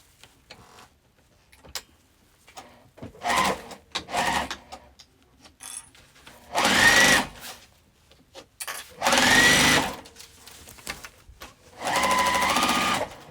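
Sewing machine stitching through stiff waterproof canvas for a crossbody bag, running in three loud, steady bursts of a few seconds each, separated by quieter handling noises and short starts.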